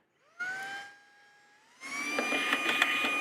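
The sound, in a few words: small portable vacuum cleaner cleaning out a Goodwill find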